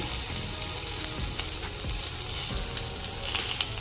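Onions with cloves and a small piece of cinnamon fry in hot oil, giving a steady, close sizzle with light stirring scrapes and no talking.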